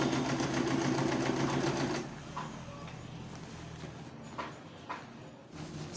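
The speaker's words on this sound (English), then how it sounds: "So I'm top stitching" A sewing machine top stitching a peplum top, running with a dense steady whir for about two seconds, then stopping and leaving a quieter room with a few faint clicks.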